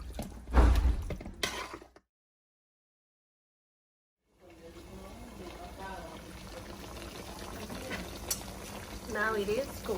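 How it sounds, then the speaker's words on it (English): Chicken pieces for Haitian patties cook in a pot without oil, giving a soft, steady bubbling and sizzling hiss that breaks off into silence for about two seconds before resuming, with people talking over it. "Now it is cooking."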